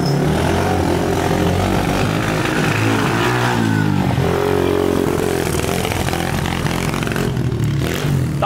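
A Honda CRF 125 dirt bike engine, still warming up, runs loudly nearby with an uneven, stuttering note that dips and surges as it cuts out and revs again.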